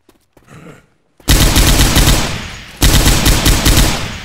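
A big gun fires in the Left 4 Dead 2 video game, two loud close bursts of rapid automatic fire, the first long and fading, the second starting abruptly after a brief pause, with faint noises before.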